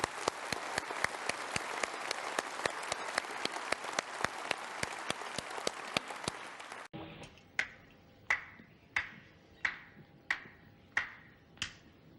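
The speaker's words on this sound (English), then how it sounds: "let's just give them a round of applause from the Conservative Party" Applause from a Conservative Party audience: a thick, even roar of clapping for about seven seconds, then sharp, evenly spaced single claps ringing out in a sparse rhythm.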